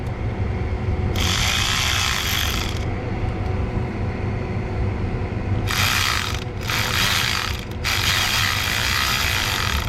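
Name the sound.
electric ratchet tightening hose clamps on a Duramax water pump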